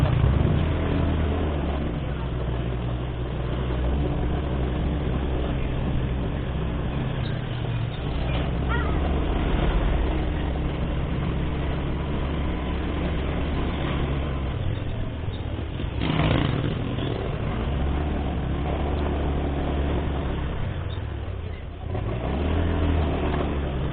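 Motorcycle overdue for servicing being ridden, a continuous loud engine drone and road rumble running steadily throughout with slight dips near the middle and end.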